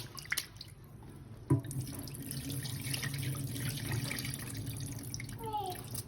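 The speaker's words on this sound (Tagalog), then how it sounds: "Hugasan lang natin yung malagkit." Glutinous rice being washed under a running tap, with steady rushing water, splashing and sloshing close by, and a sharp knock partway through.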